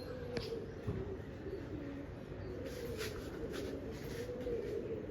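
Soft, low pigeon cooing drifts along quietly and continuously, faint and somewhat distant against a light background hiss.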